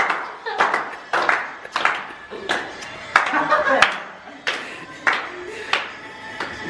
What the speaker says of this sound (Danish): I skal klappe, drenge.